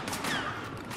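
A brief, dense burst of close-quarters blaster fire in Star Wars Battlefront, a rapid crackling volley lasting about a second.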